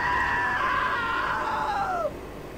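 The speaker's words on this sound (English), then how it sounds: "Now that was a great scream." A shrill, sustained scream in the video game What Remains of Edith Finch rises and holds for about two seconds, then bends downward and breaks off, loud and close over a quiet background.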